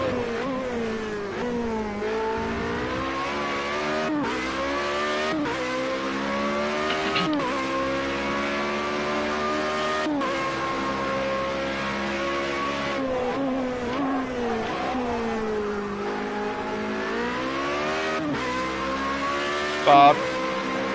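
A Formula Renault race car engine in the Project Cars 2 racing game drones loud and continuously, its pitch rising and dipping through upshifts and downshifts over about twenty seconds, with a brief blip near the end.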